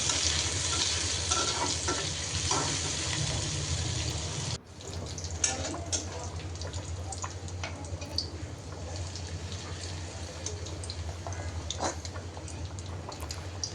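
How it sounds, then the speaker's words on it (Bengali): Chopped garlic and onion fry in hot oil while cooking nihari, a steady close sizzle that breaks off briefly partway through, then resumes with light stirring scrapes and crackles. "এখন রসুন কুচি সাথে পেঁয়াজও দিলাম অল্প করে, আর এই তো তেল দিয়ে এখন এটা হালকা লাল করে ভেজে"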